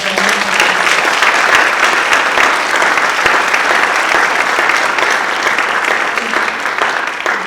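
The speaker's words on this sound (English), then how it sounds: "Can we give our amazing student panelists a round of applause?" An audience at a school caregivers' night for ninth grade applauds student panelists, steady dense clapping filling the room for several seconds at full strength, with no one speaking over it.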